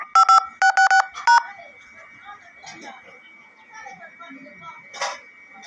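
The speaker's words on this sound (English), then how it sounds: "please enter your 10-digit phone number" A quick series of close DTMF keypad tones enters digits on a phone line, followed by faint creaks, a voice and a brief later burst.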